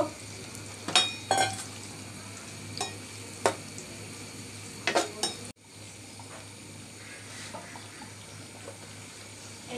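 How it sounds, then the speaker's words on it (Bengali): Two medium onions fry in oil for beef halim, a soft steady sizzle with sharp clinks of a utensil stirring against the pan in the first half; quiet and close. "এই তেলের মধ্যে আমি 2টা মাঝারি সাইজের পেঁয়াজ দিলাম, একটু বেরেস্তা করে নিব"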